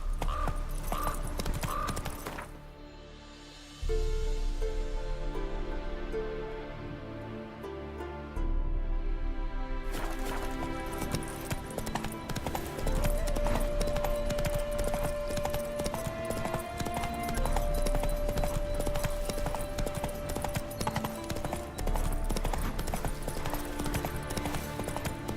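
Galloping hooves of Roach, the horse in The Witcher 3 video game, pounding in a steady rhythmic clip-clop under continuous game music, close and loud throughout.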